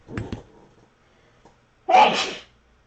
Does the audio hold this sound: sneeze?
yes